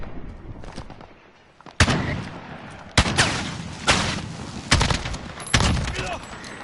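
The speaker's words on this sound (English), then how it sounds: "Got a sentry gun on station." A sentry gun firing in Call of Duty Modern Warfare, a series of loud booming shots roughly once a second amid background game noise, with a voice briefly heard.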